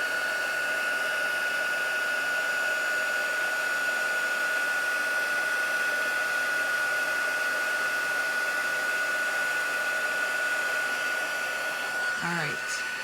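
A heat embossing tool blows steadily while melting embossing powder, giving a continuous, close hair-dryer-like whir with a constant whine running through it.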